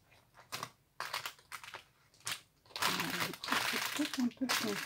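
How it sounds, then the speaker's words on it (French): Paper being crumpled by hand while making a travel-journal mini photo album, a burst of dense crinkling and crushing close to the mic, after a few seconds of short talk. "On froisse pour avoir l'effet."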